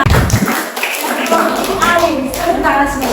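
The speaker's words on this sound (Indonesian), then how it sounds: "Tepuk tangan dong untuk Uti Ami." Classroom audience of a teacher training program clapping for a presenter, close, sharp hand claps mixed with taps and thumps while voices talk over them.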